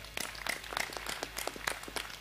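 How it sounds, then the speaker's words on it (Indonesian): A seated audience at a religious gathering gives a round of applause, a modest crowd with distinct individual claps standing out close by over a steady low hum. "Tepuk tangan untuk 3 kelompok kita."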